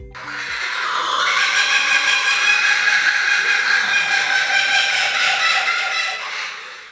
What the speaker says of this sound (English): now you can find the laughing Kookaburra, the largest member of the kingfisher family, known for their iconic laughing calls